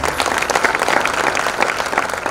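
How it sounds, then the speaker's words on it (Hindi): An audience at an awards ceremony bursts into sustained, dense applause honouring women, loud and continuous throughout with no talk over it. "मातृशक्ति के सम्मान में जोरदार ताली बजाकर उनका अभिनंदन करें"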